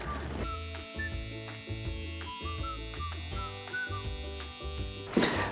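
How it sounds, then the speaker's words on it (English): A small electric hair trimmer (detailer) buzzes steadily up close during a skin fade haircut, its pitch dipping and rising slightly as it works, ending with a brief louder rustle. "And I'll go back with the detailer."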